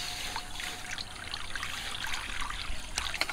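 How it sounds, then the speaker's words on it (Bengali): Water is poured into a wok to boil mangoes, a soft steady trickling splash heard up close for a few seconds. "আমগুলো সিদ্ধ করে নেওয়ার জন্য কড়ায় জল দিয়ে দিচ্ছি পরিমাণ মতো।"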